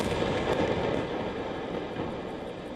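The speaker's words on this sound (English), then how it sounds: "these bombings triggered a major explosion in Tar Filse in southern Lebanon" A powerful bombing explosion in southern Lebanon rolls out as a sustained, dense, rumbling roar that stays loud and slowly fades across the clip, with no distinct onset.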